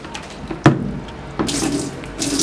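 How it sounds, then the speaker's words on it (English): Cleaning mixture is poured into a washing machine, a splashing liquid gush in two bursts after a brief knock, fairly close and with no talking. "Now I'm going to pour the mixture inside the washing machine."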